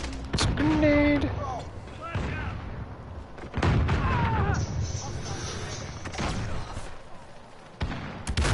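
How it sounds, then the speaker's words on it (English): A grenade blast in the video game Modern Warfare lands as a heavy boom amid scattered gunfire and battle noise, with people talking over the fight. "Grenade."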